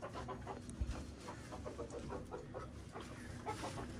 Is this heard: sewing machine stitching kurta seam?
no